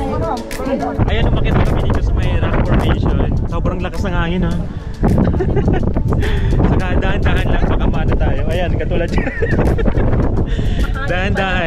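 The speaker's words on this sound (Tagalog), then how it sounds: "sobrang lakas ng hangin" Strong wind gusting across a mountain summit at Mt. Kulis, a steady loud roar and buffeting on the microphone throughout, with people talking over it.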